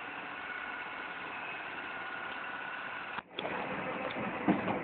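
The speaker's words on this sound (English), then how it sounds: "Got the old Chevy running." An old Chevy car engine idles in a garage during a blizzard, a low, even rumble with one brief dropout before it resumes.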